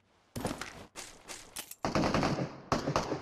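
Rapid bursts of automatic gunfire from the mobile battle royale game PUBG Mobile, several loud close volleys separated by brief gaps, with no talking over them.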